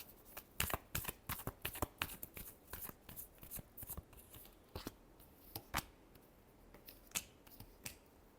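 Tarot cards being shuffled, a quiet close run of crisp irregular flicks and slaps, card against card, with short pauses between bursts and no voices.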